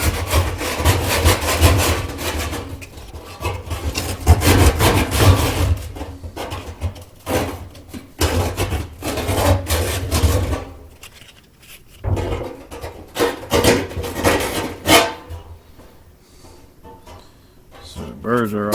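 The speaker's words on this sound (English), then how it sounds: "I think I'll add a little bit of sandpaper around it." Hand sanding with sandpaper to take burrs off a part during a fuel system retrofit on a vintage Plymouth, giving a steady rasping, rubbing scrape in repeated strokes, close up, with some pauses and light handling noise.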